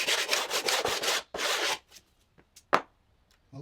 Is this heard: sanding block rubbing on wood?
yes